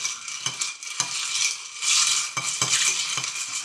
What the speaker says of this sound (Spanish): Vamos a romper, vamos a mezclar.